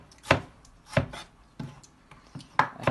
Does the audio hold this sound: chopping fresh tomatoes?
yes